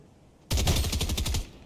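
Rapid automatic gunfire from a Fortnite solo match bursts out in a loud, dense string of shots lasting about a second, abruptly starting after near silence.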